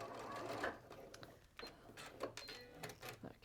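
A sewing machine stitches a back stitch around a curve on a pet-themed sewing project, with a steady mechanical whir broken by short pauses and restarts, heard up close with no speech.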